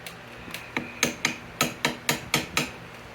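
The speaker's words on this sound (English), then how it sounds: "I'm going to try and wedge the chisel in here" About ten sharp, evenly spaced metallic hammer blows strike a chisel wedged into the engine of a 1997 Vespa P200E scooter during a rebuild, close and distinct with brief ringing decays.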